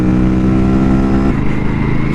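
Aprilia RS457 motorcycle engine droning steadily while riding two-up with a pillion at moderate speed, a loud continuous hum that shifts pitch slightly partway through, with wind rush and no talking.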